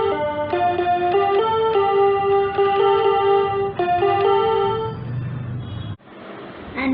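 A melody line from a song is played on a Bigfun toy keyboard, bright electronic tones stepping through sustained notes before a brief break and a closing chord, loud and close, no talking.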